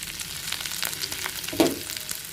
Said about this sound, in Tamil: ஜீரகம் மிளகும் போட்டாச்சு நல்லா பொரியுதுங்க